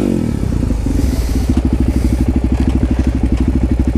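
A Suzuki DR-Z400 SM supermoto motorcycle going down in the woods: loud, close engine noise with a brief scraping clatter at the start, then a steady, rapid chugging pulse.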